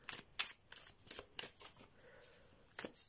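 Tarot cards being shuffled, a quick series of crisp riffling bursts that come and go over a few seconds, close and fairly quiet, with no voices.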